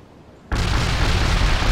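An artillery strike in the World in Conflict strategy game: after a quiet half second, a sudden loud, broadband roar of explosions erupts and holds as a dense, sustained rumbling blast to the end.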